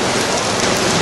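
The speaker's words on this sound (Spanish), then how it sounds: "mientras llueve copiosamente" Heavy rain pouring down at an outdoor kickboxing tournament, a dense, loud, continuous hiss of drops drumming on surfaces, steady throughout with no voices.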